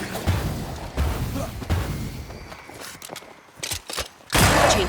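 Gunshots fired at a lantern during Banishers: Ghosts of New Eden gameplay, a few sharp loud cracks spread unevenly across the moment, the last burst the strongest, with a crash-like tail.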